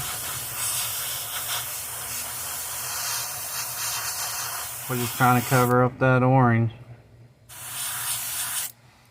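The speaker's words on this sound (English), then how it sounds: "So, okay. So we'll just spray again." Spray paint hisses in a long continuous burst onto a bicycle S crank over a stencil, briefly interrupted while someone speaks, then a second short spray.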